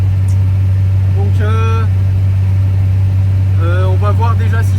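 An Infiniti G35 drift car idles with a steady low engine hum throughout, while someone talks over it.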